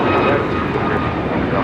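An American Airlines Boeing 737 MAX 8 takes off at LAX, heard as a loud, steady broadband engine roar filling the whole moment without letup.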